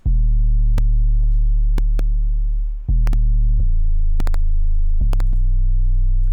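Heavy sustained sub-bass notes with sharp clicky percussion hits on top, a steady electronic trap beat playing loud with no voices.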